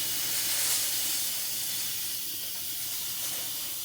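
Steam hisses steadily from a cooker releasing pressure after cooking corned beef, a continuous close, fairly loud broadband rush that holds through the whole stretch with slight swells and no voices.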